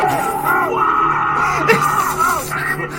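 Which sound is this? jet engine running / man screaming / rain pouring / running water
man screaming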